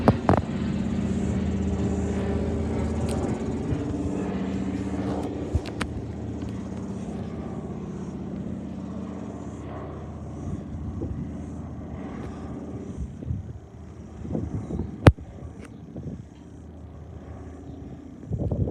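An Air Chathams DC-3 flies overhead with a steady, droning piston-propeller rumble that holds fairly level and moderately distant, then fades, with a sharp click near the end.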